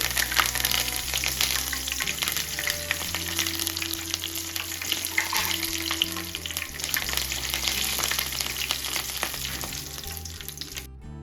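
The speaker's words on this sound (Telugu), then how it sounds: "మనం పల్లీలు వేపుకున్నాం కదా వీటిలల్లో వేసుకోవాలి తర్వాతకి మనం కరివేపాకు అండి కరివేపాకు కూడా వేయించుకోవాలి" Peanuts and curry leaves fry in oil for a Telugu dondakaya (ivy gourd) fry, giving a loud continuous sizzle with bursts of crackling and a low background hum, no talking.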